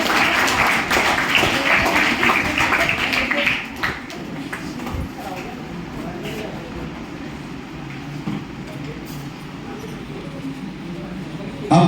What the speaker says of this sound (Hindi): जोरदार तालियों से आपका स्वागत करें